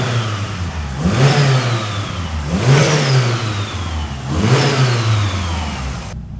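A Mitsubishi Evo fitted with a new downpipe exhaust revs three times in a row, each blip rising sharply and settling back to idle, loud and close with no voices.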